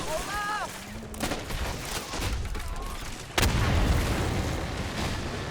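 Battlefield combat in a video game set during a Chinese invasion of Taiwan, with a mortar crew nearby: dense rattling gunfire and booms throughout, a whistling tone early, and a sharp loud blast near the middle leaving a heavier roar.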